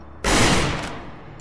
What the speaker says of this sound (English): Why is the turret so overpowered?